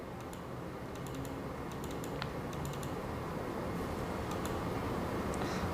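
Computer keyboard typing as data is entered into a medical program, quiet irregular clusters of key clicks in bursts with short pauses, fairly close, no talking.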